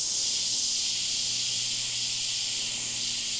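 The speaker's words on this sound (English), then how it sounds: "Again, the air on at all times, paint on, paint off." An airbrush sprays a steady, continuous hiss of compressed air and paint, close up and unbroken, with a faint low hum from the compressor beneath.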